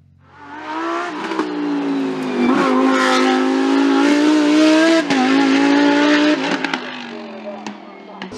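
Lamborghini Huracan Super Trofeo race car driving a hillclimb course at Dunières in Auvergne, its engine loud and close, revving up and holding a high whine with brief gear-change dips and tire squeal.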